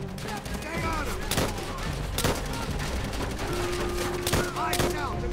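Enemy machine gun firing in Call of Duty World at War, rapid bursts and sharp shots cracking repeatedly over a busy battle soundscape, with voices in the mix.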